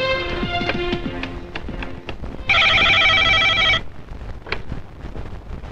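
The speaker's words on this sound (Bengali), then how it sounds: "এই সৈয়দ আলী খাঁরে ফোন লাগা।" An old-style telephone bell rings in one loud continuous burst of about a second, following a few shorter tones and background movement.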